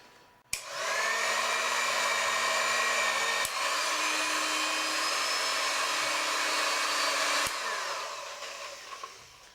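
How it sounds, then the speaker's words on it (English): An electric hand mixer whirs steadily through flour and sugar cupcake batter, its motor hum holding a constant pitch with brief clicks as speed changes, then winding down at the end. "With a hand whisk like this, it'll only take a few minutes."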